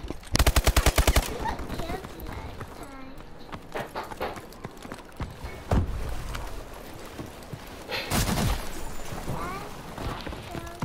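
Rapid bursts of automatic gunfire in a kids-versus-dad video game, a loud rattling volley at the start and another burst later, with scattered shots, clatter and background game sounds in between.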